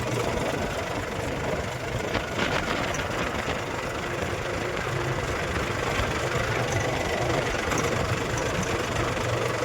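A tractor engine idles on a rough dirt road, a steady rumbling drone with a faint knocking pulse, close and continuous with no pauses.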